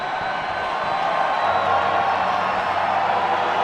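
A baseball crowd at a Pittsburgh at Chicago Cubs game cheers in a steady, broad roar of voices and whoops that holds throughout, somewhat distant and without clear individual words.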